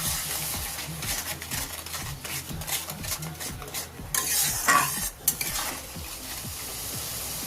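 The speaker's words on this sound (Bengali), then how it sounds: "এবারে সব মশলাগুলো ভালো করে কষে নেব, যাতে মশলার গন্ধ না থাকে।" Spice masala stirred and sautéed in a pan for Bengali tel koi fish, with steady scraping strokes over a soft background sizzle and a few sharper clinks of the spoon against the pan.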